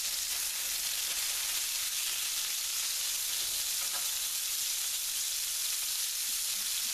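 Thick lamb burgers sizzling in a pan produce a constant, dense hiss of frying fat, close and even for the whole stretch with no speech.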